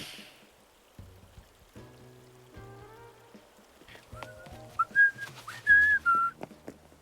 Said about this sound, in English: That was a very bad whistle.